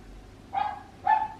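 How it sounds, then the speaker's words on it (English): Two sharp dog barks ring out about half a second apart, moderately close in an otherwise quiet indoor room. "you can hear my dogs barking away"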